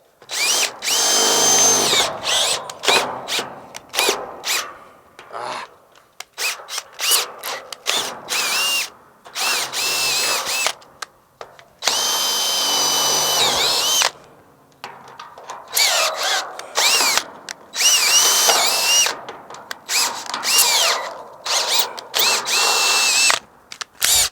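A power drill whirs loudly in repeated bursts of a few seconds each, stopping and restarting with brief pauses, close by and alone.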